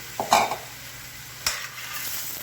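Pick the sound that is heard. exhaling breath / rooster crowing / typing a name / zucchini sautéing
zucchini sautéing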